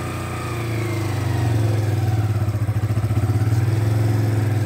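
A motorcycle engine held at raised throttle in second gear rises into a steady, loud, throbbing drone as the clutch is let out, close by with no talking.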